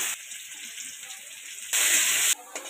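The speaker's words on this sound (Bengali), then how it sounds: "কড়াইতে আবার তেল দিয়ে গরম করে নিয়েছি, গাজরগুলো দিয়ে দিলাম।" Carrots drop into hot oil in a wok and set off a loud, steady frying hiss that swells into a brief stronger burst before easing off.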